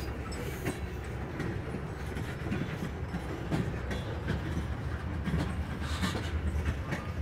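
Freight train with blue tanker cars rolling past, a continuous loud rumble with rhythmic clickety-clack of wheels over rail joints and occasional metallic squeals, close by and steady throughout.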